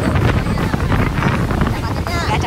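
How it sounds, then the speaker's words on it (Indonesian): Strong wind blows on Mount Semeru, a loud, continuous roaring rush buffeting the microphone without letup. "itu angin campur."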